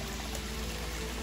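Hot spring water from a 60°C source pours continuously into a spacious open-air bath attached to a guest room at a Kurokawa Onsen inn, a steady, close splashing stream with no voices.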